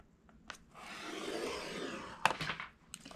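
A tool is drawn across cardstock on a scoring board, making a soft, close scraping rub lasting about a second, followed by a few light taps and clicks, quiet and without voices.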